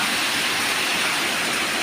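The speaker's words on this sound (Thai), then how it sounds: "วันนี้ก็เอาบรรยากาศฝนตก" Steady rain pours down in a continuous, even hiss with no let-up and no voices over it.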